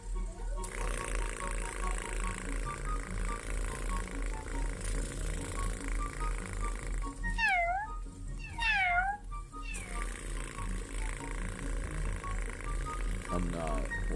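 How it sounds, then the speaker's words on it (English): A cat meows a few times in a TikTok clip, short rising and falling cries in the middle over a steady background hum. "This is just a cat."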